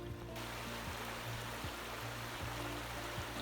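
A creek on a large rural land parcel flows in a constant, broad rush of water, steady and fairly close, over a low droning hum, with no one speaking.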